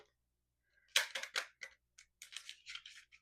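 A deck of affirmation cards being shuffled by hand, heard as a quick run of close, crisp papery riffles and flicks that follow a moment of silence.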